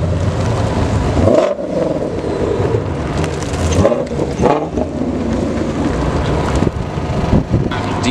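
Shelby muscle cars rolling into a car meet outdoors, engines rumbling loud and close with a few revs, mixed with heavy wind buffeting across the microphone, no clear talking.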